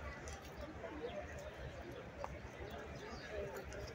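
Racehorse hooves clop faintly on the track at Belmont Park on a stakes race day, a soft, distant rhythm under a general murmur of crowd and outdoor noise.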